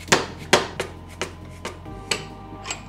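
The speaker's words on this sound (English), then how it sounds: "with our drift punch and a hammer, we're gonna tap that axle right out the other side." A hammer strikes a drift punch to tap a drive axle out, giving about eight sharp metallic taps at an uneven, unhurried rhythm, moderately close over a low background hum.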